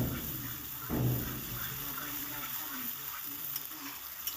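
Spice masala mixed with whisked sour curd is stirred in a hot pan for a mixed vegetable dish, making a low continuous sizzle with a brief scraping stir near the start.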